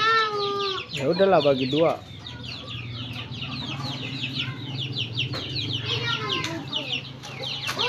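Chickens cluck and squawk repeatedly near a farmyard, with busy overlapping calls throughout and people talking under them.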